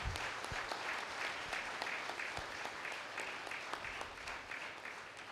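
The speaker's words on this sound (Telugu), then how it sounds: "ఒక్కసారి మా కుటుంబానికి ఒక్కసారి గట్టిగా మనం చప్పట్లు కొడదామండి" A seated audience at a spiritual talk claps loudly and steadily together, a dense close wash of applause with no gaps that keeps up its full strength from start to finish.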